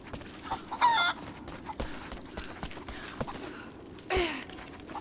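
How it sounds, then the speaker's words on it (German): Chickens cluck in Rise of the Tomb Raider, with a few short, close clucks and squawks over soft outdoor ambience and scattered light taps. "Hier sind die Hühner."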